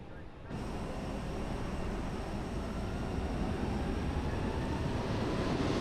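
A jet airliner's engine spools up loudly in a realistic flight simulator, a broad roaring rush that begins abruptly after half a second and holds steady, slightly swelling, with a voice faintly beneath it.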